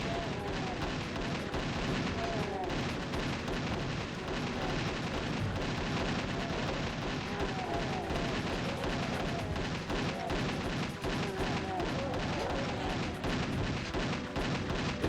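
Nonstop rapid gunfire and blasts from a fight against turrets in a GZDoom custom level, dense and loud throughout with no pause in the shooting.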